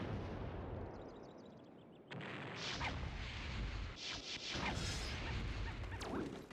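Arwing blaster shots in the video game Star Fox Adventures: repeated zapping laser bursts with descending whistling tones, layered over a dense, steady roar of flight and combat noise.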